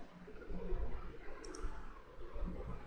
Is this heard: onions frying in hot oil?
no